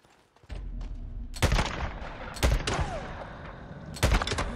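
Gunfire from the video game Days Gone cracks in three loud bursts spaced about a second apart, each with rumbling echoes trailing off, and no talking over it.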